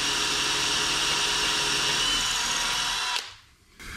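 A hand-held power drill whines at steady high speed for about three seconds while drilling into an engine block, then cuts out briefly before spinning up again.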